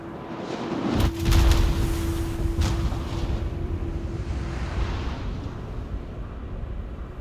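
Naval gunfire in World of Warships: a heavy boom hits about one second in, with a second blast near 2.6 seconds, over a steady rumbling battle bed and a sustained tone.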